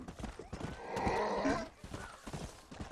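A horse in the video game Red Dead Redemption gives a short whinny in the middle of soft hoof and movement noises, close and moderately loud.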